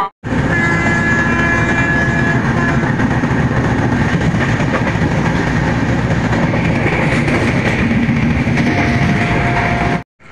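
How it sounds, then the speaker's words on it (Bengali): 12177 Chambal Express from Howrah pulling into the small Nivari station in heavy fog, a loud continuous rumble of rolling wagons and wheel clatter with a horn sounding near the start, steady throughout. "12177 চম্বল এক্সপ্রেস হাওড়া স্টেশন থেকে চলে এসেছে নিভাড়ি স্টেশনে"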